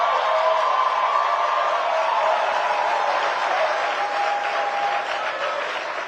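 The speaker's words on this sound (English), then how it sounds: "If you want to stand up and have the applause," An audience in a hall breaks into sustained, dense applause with scattered cheers, steady and loud throughout before easing slightly at the end.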